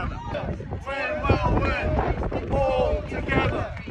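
Strong wind buffets the microphone at an outdoor Ukrainian peace rally in central London, a constant rough roar running beneath continuous talking.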